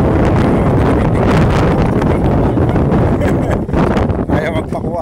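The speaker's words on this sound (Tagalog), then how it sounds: "malakas ang hangin pa" Loud, constant typhoon wind on the coast of La Union buffets the microphone with heavy low rumbling gusts throughout, with a voice faintly audible beneath it near the end.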